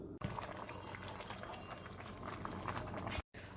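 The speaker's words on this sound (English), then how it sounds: "now that it's boiling, I'm going to add the meat back in" A pot of ham, green bean and potato stew boils steadily, with close bubbling and a soft liquid churn that runs continuously apart from two very short dropouts.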